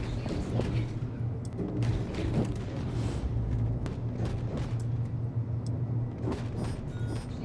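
Ship cannon fire and explosions in Star Citizen rumble as a continuous barrage of dull thuds and booms, irregularly spaced over a low droning background, moderately loud and without talk.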